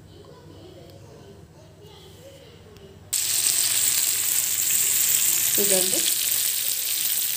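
Marinated chicken pieces hit hot oil on a flat tawa, breaking into a loud, steady sizzle that fills the rest of the clip after a quieter opening with someone speaking briefly.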